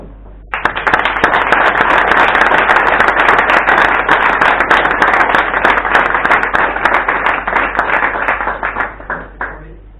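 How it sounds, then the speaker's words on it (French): An audience at the 2018 Idron tournament trophy ceremony applauds loudly and densely. The clapping fills almost the whole stretch alone, then thins out at the end. "je pense qu'on peut lui faire quelques applaudissements"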